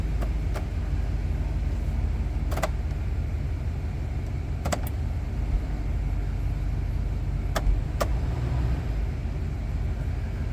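A 2000 Chevrolet Express 2500 van idles in drive after a transmission filter change, its engine a steady low rumble throughout with a few faint clicks and knocks, no talking.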